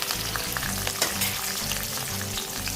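Green chillies and onions hitting hot oil for a Chettinad crab gravy, giving a loud, continuous crackling sizzle with a brief sharper clatter near the middle, no voices.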